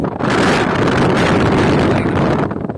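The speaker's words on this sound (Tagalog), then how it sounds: "Ang lakas ng hangin, guys." Loud, strong typhoon wind buffeting the microphone, a constant roaring rumble that stays heavy for the whole stretch, with no voices.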